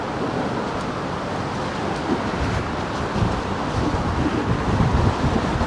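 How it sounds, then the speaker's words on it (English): Strong wind buffets the microphone on the Brooklyn Bridge in New York, a steady loud roar rising slightly toward the end, with no talk. "Okay, the wind. I have to lean into the wind over here."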